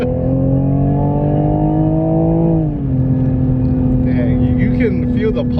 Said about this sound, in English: we're gonna step on the gas, take it for a little rip here